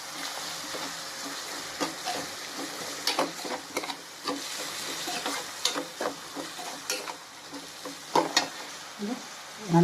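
Dried barracuda fish fries in a pan under a constant sizzle, broken by repeated sharp scrapes and clacks of a spatula stirring the pieces, close and moderately loud.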